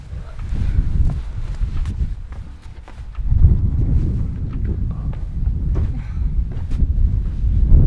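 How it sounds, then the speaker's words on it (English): Steady low rumbling wind buffets the microphone outdoors at a Colorado climbing spot, with gusty swells, and a voice speaks briefly in the background. "Ooh, it's windy."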